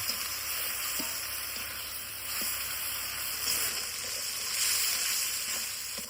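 Ground chilli, ginger and turmeric paste with a little water stir-fried in a pan, a low, even hiss of frying with a few faint stirring taps beneath.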